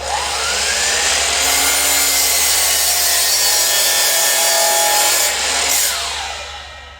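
A compound sliding miter saw set at two angles cuts through a wooden board for trim work. The loud, close whine holds steady for several seconds, then the motor spins down and fades.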